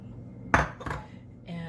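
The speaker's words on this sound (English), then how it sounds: "And I'm going to continue to stir it." A spoon knocks twice against a pot while stirring a sauce thickened with a cornstarch mixture on the stove for grilled Hawaiian barbecued sandwiches, followed by a softer scraping stir; close and fairly loud.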